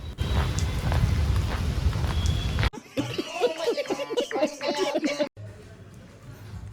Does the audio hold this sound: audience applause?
no